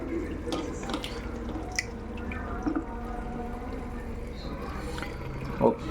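Mutton is washed in water with irregular splashes, drips and sloshing close by, with a louder splash near the end.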